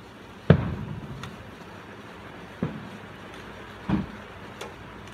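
Distant fireworks show with a few scattered booms, one sharp report followed by two softer thuds and a faint pop spread over several seconds, set against a quiet outdoor background.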